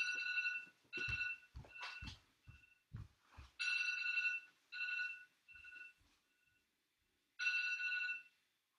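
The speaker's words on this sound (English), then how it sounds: "let me turn off my timer just a minute" Electronic timer alarm beeping in repeated bursts of bright, even tones, some short and others held longer, with soft thumps and knocks underneath as it is handled and switched off.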